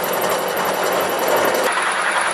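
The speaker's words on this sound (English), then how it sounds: "I've got a spot facing tool in the mill, basically just to give a flat surface for the heads of the bolts to sit on" A spot facing tool is cutting into metal in a milling machine, making a loud, steady grinding hum with a faint high whine. The cut drops slightly in tone near the end of the short burst.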